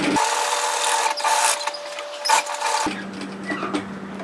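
A sewing machine stitches a pocket on a bomber-style varsity jacket, its motor whirring steadily while the fabric rubs and shifts beneath the needle, up close. The run stops abruptly near the end, leaving a quieter hum.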